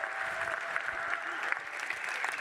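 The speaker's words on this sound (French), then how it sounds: "Je crois qu'on peut encore une fois applaudir toutes les équipes." An audience applauds the teams at an evening gathering, a continuous, dense clapping that stays steady and moderately close throughout.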